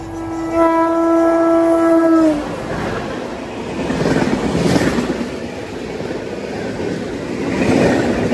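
A passing Vijayawada–Chennai Central Jan Shatabdi gives a loud, sustained horn blast, then rushes by with a continuous roar and rattle of carriages close to a halted train at a crossing.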